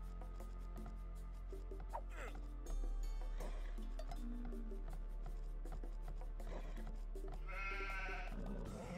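Sheep bleat in a strategy video game with Persians in play, a short bleat sounding over layered game effects, clinks and chopping sounds, while a commentator talks throughout.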